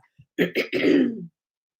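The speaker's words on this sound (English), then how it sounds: "I have to cough." A short burst of throat clearing and coughing indoors during houseplant chores: two quick rough hacks, then a longer raspy clearing, close and fairly loud in an otherwise quiet room.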